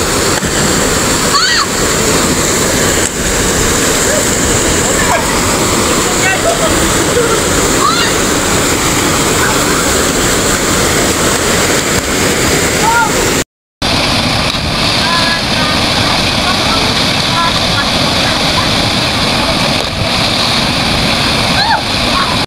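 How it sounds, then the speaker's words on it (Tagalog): Marga River Falls waterfall in Adlay, Surigao del Sur, gives a steady, loud rushing roar of splashing water that fills the whole stretch, broken only by a brief dropout partway through. "Kanindot basta makaari mo sa Marga River Falls."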